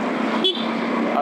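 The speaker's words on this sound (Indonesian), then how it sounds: "Coba klakson ya." A short car horn tap sounds from inside a car turning around on a quiet road, one brief toot rising over steady cabin and road noise while people talk throughout.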